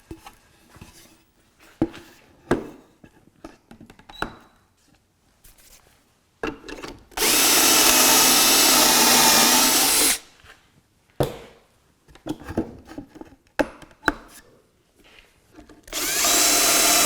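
A power drill bores holes in wood while building a benchtop tool chest, with two loud sustained bursts of drilling separated by quieter clatter and handling knocks.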